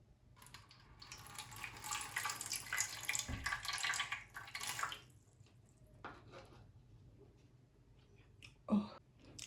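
Ungo water poured into a bowl for abacha, African salad, a steady splashing pour lasting several seconds that thins out, then a few scattered drips and a brief clatter, close and moderately loud.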